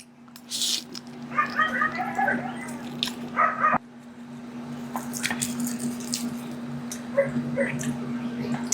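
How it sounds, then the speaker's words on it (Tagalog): Dogs bark and whimper intermittently at a distance behind a steady electrical hum, with short bursts of yips scattered through an outdoor barbecue setting; no one speaks. "pasensya na sa mga aso guys na naririnig niyo yung mga asong ingay"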